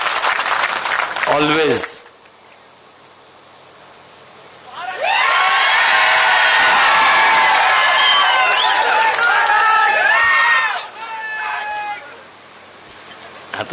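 A crowd at a live political rally in Beed bursts into applause and cheering with shrill whistles and shouts. The noise swells for several seconds after a man's speech and then fades back.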